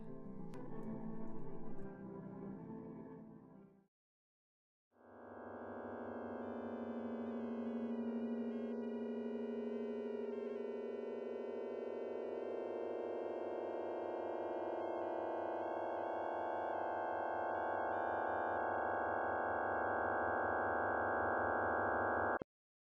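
Chromaphone sonification of a sunrise, a short burst of dense tones, a brief silence, then a sustained cluster of steady sine tones slowly swelling and holding, faint and synthetic.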